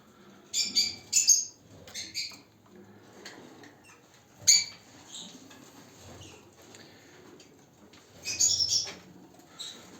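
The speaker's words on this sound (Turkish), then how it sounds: "bir 100 tane kuşa yakın var" Lovebirds, a flock of about a hundred, give bursts of high chirps and squawks in irregular clusters, some louder calls standing out against a quieter chattering background.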